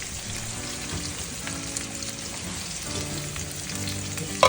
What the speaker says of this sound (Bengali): চিকেনগুলো ভাজতে ভাজতে